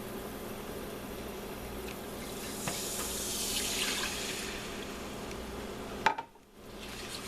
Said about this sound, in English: now I'm going to add my milk all at one time